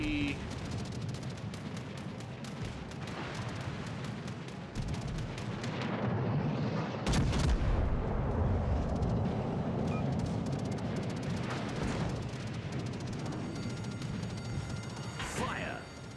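A Königstiger tank fires high-explosive shells in a battle game, heavy booms and rumbling blasts going off amid continuous gunfire while someone talks over the noise.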